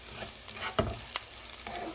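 Dried alamang shrimp frying in a pan for pinakbet, a steady crackling sizzle close by with a few sharp scraping stirs, no voices.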